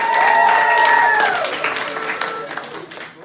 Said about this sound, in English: We can clap and applaud for them too.